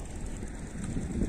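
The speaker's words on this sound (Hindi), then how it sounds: "मस्त एकदम हवा चल रहा है।" Wind blowing steadily outdoors at a rural spot reached by bicycle, a continuous low rushing roar buffeting the microphone, close and fairly loud with no other sounds.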